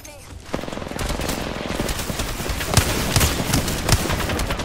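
Rapid automatic gunfire in an Apex Legends ranked match rattles continuously, loud and close, with sharper single shots punching through the dense volley.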